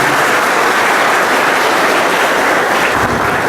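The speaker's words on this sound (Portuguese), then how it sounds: "Uma salva de palmas" A church congregation claps together during Mass, a dense, loud, continuous wash of applause filling the space for several seconds with no voices over it.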